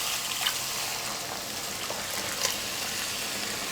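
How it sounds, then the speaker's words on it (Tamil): Juice squeezed from grated pumpkin is poured into a pan where the pumpkin is frying for halwa, giving a steady hiss and sizzle with faint splashes throughout. "அந்த தண்ணியை 1 கப் அளவுக்கு சேர்த்துக்கிறேன்."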